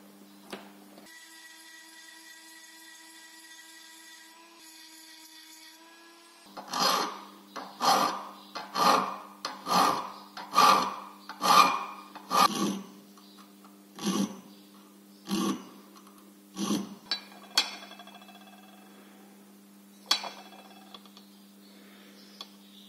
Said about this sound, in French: J'ai terminé le guillochage